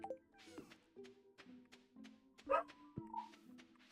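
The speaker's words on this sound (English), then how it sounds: "Apologies for the dog barking in the background." A dog barks in the background in a home, faint and distant: scattered yips and short barks with a whimper mixed in, sounding intermittently behind quiet speech.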